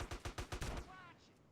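Automatic gunfire in the video game GTA San Andreas: a rapid string of about six evenly spaced shots rattles out loud and close, then gives way to a brief thin whine that fades.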